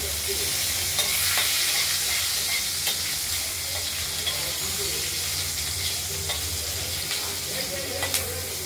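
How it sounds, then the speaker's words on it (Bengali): Green chillies and black cumin seeds sizzle in hot oil as part of a bottle gourd curry, a close, continuous crackling hiss with occasional sharper pops and light stirring clicks, no voices. "কালো জিরে ফোড়ন দিয়ে দিলাম। এবার লঙ্কাগুলো দিয়ে দিলাম।"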